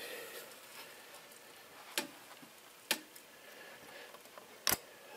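Eagle Signal 4-way traffic signal housing being opened, a few sharp metallic clicks and latch snaps spaced out over a faint hiss, close and quiet, no talking.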